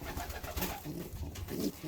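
A young pigeon on its perch gives low, soft cooing under a steady background rumble, with muffled rising coos near the end.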